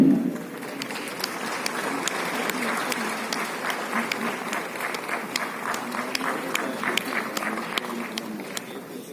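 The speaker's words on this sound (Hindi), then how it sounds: "जोरदार तालियों से अभिवादन कीजिए" An audience at a CPWD foundation day ceremony applauds an engineer being honoured, steady crowd clapping of moderate loudness with sharp individual claps standing out throughout.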